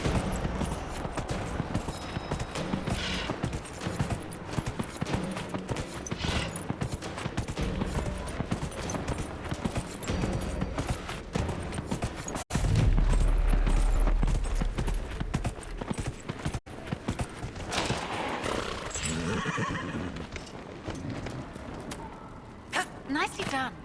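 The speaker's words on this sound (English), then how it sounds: "Slowest gallop I've seen on a horse." Rhythmic hoofbeats of a galloping horse in Dragon Age: Inquisition run steadily throughout a race, layered with game music and effects, with voices speaking at points.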